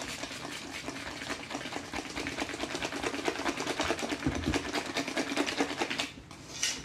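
A stiff whisk beats gluten-free lekach batter by hand in quick, continuous, rhythmic strokes to break up lumps. The whisking stays close and steady, then pauses briefly near the end.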